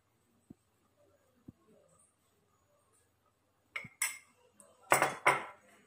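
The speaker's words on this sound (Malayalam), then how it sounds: "നന്നായിട്ടൊന്ന് ഇളക്കി കൊടുക്കാം" A spoon stirring a jackfruit ice cream mixture in a bowl, starting with a couple of faint isolated taps and then a burst of quick, close clinks and scrapes against the bowl.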